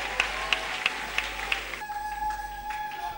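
A church congregation claps in a steady rhythm, about five evenly spaced claps, before the clapping fades beneath sustained ringing tones.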